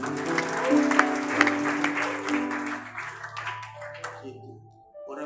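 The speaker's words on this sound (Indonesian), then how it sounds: "Kasih tepuk tangan itu." A church congregation breaks into applause during a sermon, a dense burst of clapping that gradually thins out, with sustained keyboard chords ringing underneath.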